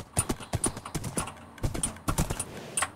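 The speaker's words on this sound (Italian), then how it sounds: "Prendiamo il cavallo. Salta un po' in alto." Horse hooves clip-clopping in the Minecraft video game, a quick uneven series of close, sharp hoof taps over about three seconds with no talking.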